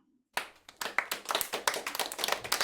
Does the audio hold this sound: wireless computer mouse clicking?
no